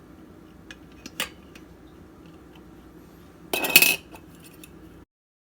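Two metal baking pans are clamped together like a Dutch oven in a quiet kitchen, with a sharp metallic clink early on and a louder cluster of scraping clanks near the end.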